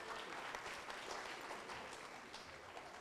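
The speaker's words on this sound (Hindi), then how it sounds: "इन सब के लिए एक बार और जोरदार तालियां।" An audience at a Hindi-language award ceremony applauds steadily, a dense wash of clapping that holds at an even level for the whole stretch, fairly faint and distant, with no voices on top.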